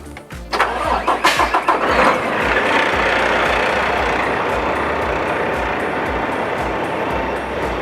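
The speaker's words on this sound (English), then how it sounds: "we're going to turn the key on, and we're going to make sure that the truck is warmed up" A 2024 Kenworth T680 truck's Paccar MX13 diesel engine cranks with a few rapid chugs, catches, then settles into a steady, loud idle rumble that continues to the end.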